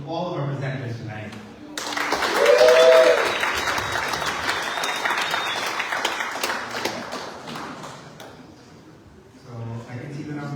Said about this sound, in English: Please give another round of applause to all of our presenters tonight.